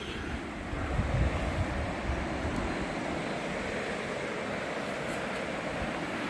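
A fast-flowing river below the wooden Vaynor bridge, heard as a steady broadband rush of water with some wind buffeting, continuous and fairly loud, with no voices.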